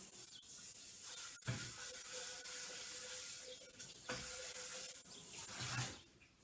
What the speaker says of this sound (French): J'y fais un petit coup d'eau pour rincer la mousse